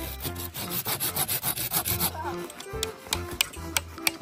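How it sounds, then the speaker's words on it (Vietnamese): A hand saw cuts through bamboo at a survival campsite in quick, rhythmic back-and-forth strokes for about two seconds, then slower, sparser rasping strokes follow with faint background noise. "Còn mình thì vẫn đang cưa."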